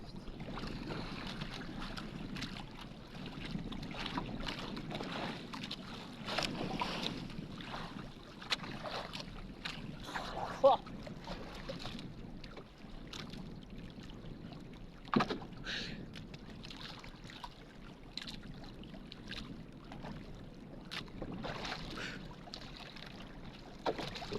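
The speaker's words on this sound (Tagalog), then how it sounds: "Lakas yung hangin mga guys." Steady strong wind buffeting over water while fishing, with a boat rocking and small waves lapping, gusty and continuous without talk.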